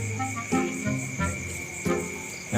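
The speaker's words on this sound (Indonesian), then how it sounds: "ini suara jangkrik-jangkrik aja" Steady, high-pitched crickets chirp continuously in the background, with a few soft low thumps and rustles nearby.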